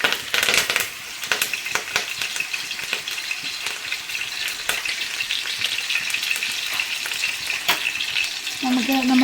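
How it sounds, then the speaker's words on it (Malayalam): Curry leaves crackle and spit in hot oil, a loud burst of sizzling pops at first that settles into a steady fry with scattered sharp crackles, no speech. "എണ്ണ ചൂടാക്കിയിട്ട് നമുക്ക് കറിവേപ്പില ഇട്ട് കൊടുക്കാം കേട്ടോ."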